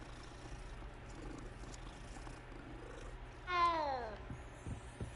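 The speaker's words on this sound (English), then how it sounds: "Kitty." A cat in the Hogwarts Legacy video game lets out a single clear meow that falls in pitch, set against quiet game ambience.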